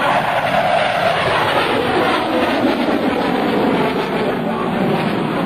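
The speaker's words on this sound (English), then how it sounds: "He'll roll the aircraft upright and pull again, doing a double Himmelmann." An F/A-18C Hornet jet flying a double Immelmann at the 2005 NAS Oceana airshow gives off a steady, loud, broad roar that holds evenly throughout.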